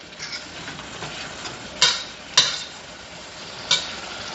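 Onions sizzle in a pan under a soft, steady hiss, with three sharp scraping stir strokes standing out near and clear, with no talking.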